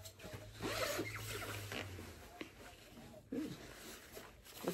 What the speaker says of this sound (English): One that has a zipper in the front.